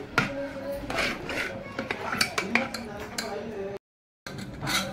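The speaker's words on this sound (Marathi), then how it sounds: "बघा डाळीत पाणी टाकून मी डाळ अशी पाण्यात मिक्स करून घेतलेली आहे" A spoon stirs mashed toor dal into water in a metal pot, making soft clinks, scrapes and rubbing knocks in an uneven rhythm, close by, with a short break of silence before the stirring resumes.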